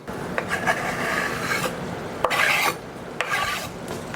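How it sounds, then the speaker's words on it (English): Spoon or utensil stirring a ground beef casserole mixture in a pan or bowl, a few rasping, scraping strokes with short bursts, close and moderately loud, no talking. "I'm going to stir that in"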